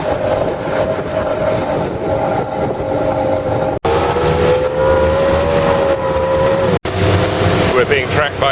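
Powerboat engine droning steadily across the Solent during a race fleet outing, a continuous loud hum with a rising whine, mixed with wind and water rush and faint background voices.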